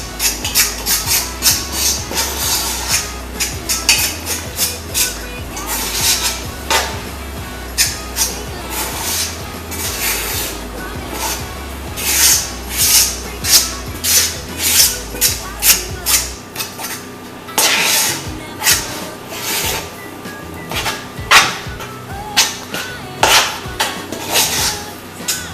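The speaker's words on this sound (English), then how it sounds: "You're going to mix this in with the fork until all the dry stuff is gone" A fork scrapes and clinks against a bowl while stirring milk into country-style biscuit dough, a steady series of rhythmic metallic taps and rubs, with a voice talking over parts of it.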